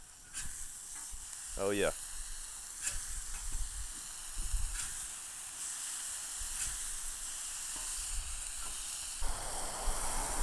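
Smash burgers made from brisket sizzle loudly on a Blackstone griddle as they are flipped, a steady close hiss with a few metallic spatula scrapes and taps, and a brief voice over it.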